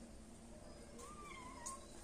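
A cat gives one faint, short rising meow at close range in a quiet outdoor home setting.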